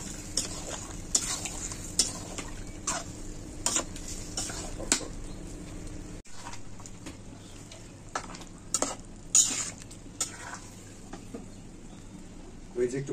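Biryani masala sautéed and stirred in a pot over a clay stove, with repeated scraping and clinking stirs over a steady low frying hiss, a voice speaking faintly in places.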